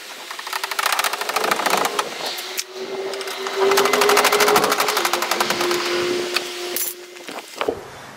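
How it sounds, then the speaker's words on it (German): Crank handle turning down a caravan's corner steady on the leg, a steady whirring mechanical rasp with a sustained tone, running continuously for several seconds, fairly close and loud, ending with a few clunks. "dazu kurbeln wir diese Ecken hier einmal runter."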